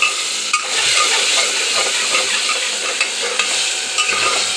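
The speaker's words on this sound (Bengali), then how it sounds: "দেওয়ার পরে এবার সবজিটা ওর মধ্যে ঢেলে দিই" Potatoes are tipped into hot oil spiced with cardamom and chilli powder and stirred, giving a loud, steady close-up sizzle and hiss with soft scraping from the spoon.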